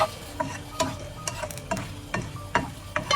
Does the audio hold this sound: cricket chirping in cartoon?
no